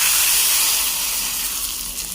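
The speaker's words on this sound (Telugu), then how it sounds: "సో ఇప్పుడు మనం తాలింపు వేసేసుకుందాం." Garlic and curry leaves are tempered in hot oil for a tomato dal, giving a loud, close, continuous hissing sizzle that eases slightly toward the end.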